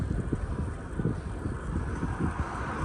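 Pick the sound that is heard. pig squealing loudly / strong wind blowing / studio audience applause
strong wind blowing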